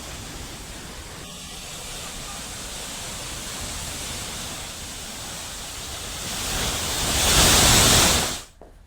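Tiger Fall waterfall at Chakrata in full spate: a dense, unbroken roar of crashing water that swells louder toward the end before cutting off abruptly.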